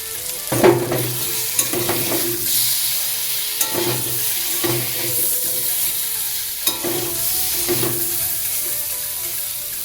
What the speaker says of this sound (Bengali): আলুটা ভালো করে লাল করে ভেজে নেওয়ার পর